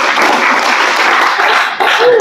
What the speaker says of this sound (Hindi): ताली तो बजा दो भाई।